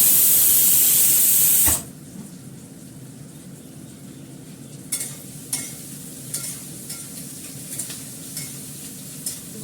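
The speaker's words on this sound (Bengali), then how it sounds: "ভালো করে পেঁয়াজটা কষিয়ে নেব" Onions sautéing in a pan: a loud, bright sizzle as they hit the hot oil, then a softer steady frying with intermittent scraping stirs.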